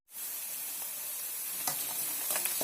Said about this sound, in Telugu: ఇది మంచిగా రెడ్ కలర్ రావాలండి ఉల్లిపాయ, అంతవరకు నెమ్మదిగా వేయించాలి, మాడగొట్టద్దు